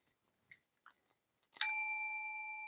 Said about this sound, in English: Where is my little bell?